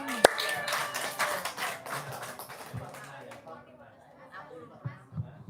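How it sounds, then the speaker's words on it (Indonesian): A live audience claps in a short burst at a comedy show, loud at first and then thinning into scattered claps under murmured chatter and a voice. "Tepuk tangan dong."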